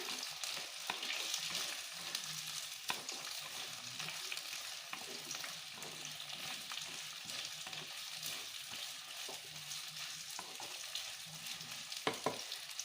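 Two sliced onions frying in oil for a Chettinad country chicken curry: a soft, continuous hiss of sizzling with occasional faint stirring knocks, fairly quiet and steady, with no voices.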